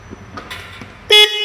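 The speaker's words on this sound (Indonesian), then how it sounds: "Klakson sudah menyala, tinggal lampu rem." A car horn on a freshly wired car electrical system sounds one short, loud honk near the end of a faint workshop background.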